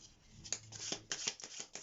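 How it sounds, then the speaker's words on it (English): A deck of tarot cards being shuffled close up, a quick run of soft riffling slaps and flicks in a quiet room. "So let's shuffle your cards."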